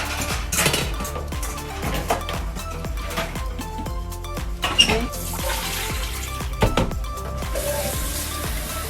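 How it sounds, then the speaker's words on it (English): Potatoes being washed in a kitchen sink, with running water splashing and dishes, pots and cutlery clinking close by, fairly quiet and steady with a few sharper knocks. "洗啲薯仔先啦。"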